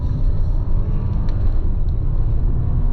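A 2024 Volkswagen Touareg R at full throttle on a tight, twisty mountain road, heard from inside as a loud, steady low engine rumble and drone with no talk.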